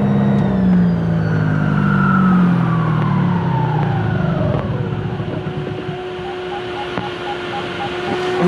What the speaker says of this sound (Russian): Включаю мотор.